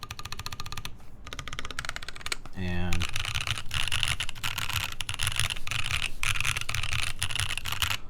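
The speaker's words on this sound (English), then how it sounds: "I feel like the spacebar sounds really nice when I'm typing" Rapid typing on a green Rekt1800 custom mechanical keyboard, dense close key clacks in quick bursts with a brief pause, while a person talks over it.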